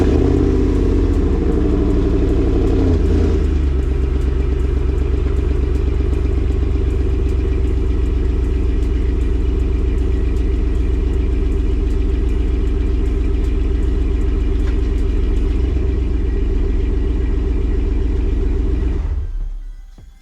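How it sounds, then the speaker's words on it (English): A Ram pickup truck's engine idles close by with a deep, even rumble and a faint clatter, a slight change near three seconds as it is shifted into reverse, then steady running until it cuts off at the end. "let me go ahead and throw the truck in reverse."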